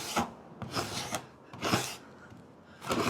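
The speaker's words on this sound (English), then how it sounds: "Just for scraping that off." Repeated rasping strokes of a hand scraper blade across wood, about five firm back-and-forth passes with short pauses between, close and alone.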